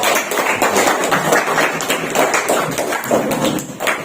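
A classroom of teachers in training applauds a group: continuous, busy hand clapping with many sharp overlapping slaps, fairly loud and sustained, with little talk.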